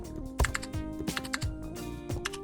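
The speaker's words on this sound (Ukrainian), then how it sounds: "Пишемо в пошуковій стрічці" Quick bursts of keystrokes on a computer keyboard as a search is typed, uneven taps close and fairly quiet.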